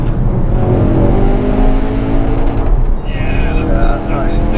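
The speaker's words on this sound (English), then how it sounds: "Shut up and rev the nuts off it." A Ford Focus RS hot hatch engine revs hard with a steady, loud roar that stays close throughout, with a small misfire crackle, and voices are heard over it.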